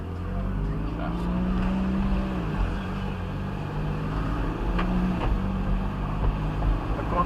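Ferrari 458 Italia on a track, its engine droning steadily at low, gentle revs as the car rolls off slowly, with continuous rumble throughout and no clear hard acceleration.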